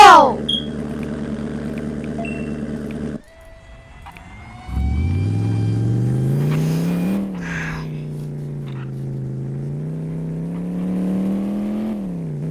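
A Ram pickup truck engine in a driving video game, a steady synthetic drone that drops out briefly, then revs back up and holds a droning whine with shifting pitch.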